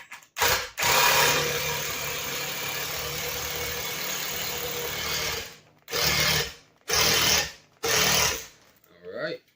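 Screws driven with a power driver into a wood horseshoe stocking holder: one long steady whirring run of several seconds, then three short bursts close by.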